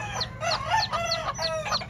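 Asil cobra gamefowl cluck in a quick run of short, repeated calls, near and moderately loud over a low background rumble.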